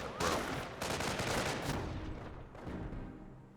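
Dense gunfire rattles through a Company of Heroes 1 battle between US and Wehrmacht forces, overlapping bursts and shots forming a continuous loud barrage that eases slightly toward the end.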